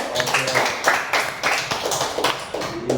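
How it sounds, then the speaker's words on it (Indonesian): A classroom of students claps for a classmate, a fairly close burst of irregular hand claps that swells and dips in waves. "Tepuk tangan untuk Rizky."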